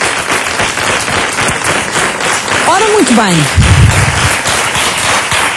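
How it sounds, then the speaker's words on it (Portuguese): Studio audience applauding guest Nuno da Silva Vieira on a Portuguese afternoon TV talk show, dense clapping under a host's voice, with a brief whistle-like swoop midway. "para quem peço desde já um grande aplauso"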